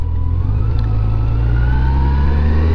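A Yamaha FJR1300 motorcycle rides along with a loud, steady low engine drone and wind rush, its pitch rising gently as it pulls. No voices are heard.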